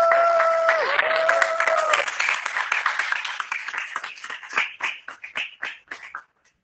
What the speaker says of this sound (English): clap it up for the one down team at KUMU USA.